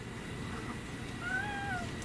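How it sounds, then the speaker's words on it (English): A pet cat gives a single soft meow, brief and close but faint over a steady background hiss, with no talk over it. "My sweet cat, yeah."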